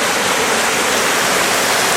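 A waterfall pours steadily into a pool below a cliff edge, a loud, dense, unbroken rush of falling water heard up close, with no voices.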